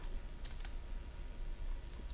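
Keys tapped on a computer keyboard during a software tutorial, a quiet run of light, scattered clicks over a steady background hiss, with no voices.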